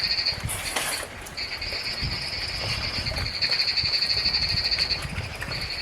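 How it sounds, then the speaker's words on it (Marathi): Frogs croak steadily at the start of monsoon rain in a village, a loud, sustained chorus of bleating calls, with rain pattering and soft background noise underneath. "पण पाऊस सुरू तर झाला आहे, तर बेडकांना आनंद झाला."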